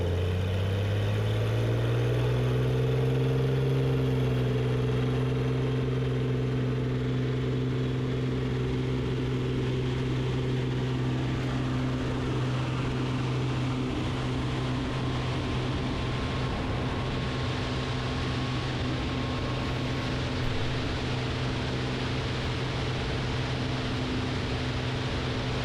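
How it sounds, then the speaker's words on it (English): A 1959 Piper Comanche PA-24 250 roars at full power down runway 18 at Ridgeland, its loud, steady propeller and engine drone heard from inside the cabin, pitch rising as it accelerates and lifts off. "Today we're flying a 1959 Comanche PA-24 250. Departing runway 18 at Ridgeland."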